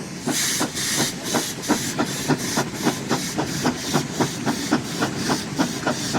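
Rhythmic puffs of a steam engine hissing at a steam rally, regular chuffs about three per second over a continuous loud hiss, close by.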